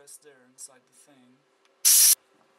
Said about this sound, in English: Let me just spray some compressed air inside the thing.